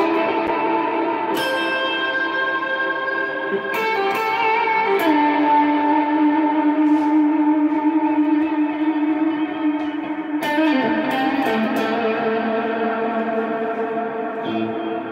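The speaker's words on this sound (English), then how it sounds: "when we're adding effects is we add some sort of reverb and or delay to create a bigger sound here." Electric guitar chords and single notes ring out with long reverb and delay tails, each new strum layering over the lingering decay in a continuous, spacious wash with no talking.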